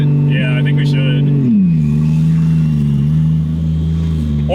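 Turbocharged 2JZ car engine holding a steady, loud high idle, its pitch dropping slightly early on and then staying even and droning throughout, with people talking over it.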